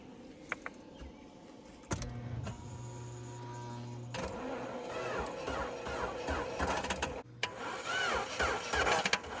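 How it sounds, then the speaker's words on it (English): An old Geo Tracker engine cranks and catches quickly, then runs at a rough idle with clicks and rattles nearby; no speech. "So that's engine start, so it's starting really fast"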